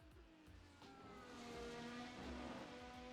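Formula race car in the Assetto Corsa VRC Formula 2025 sim, engine whining through rising and shifting tones with tire noise, heard from a replay camera, steady and full with no talk.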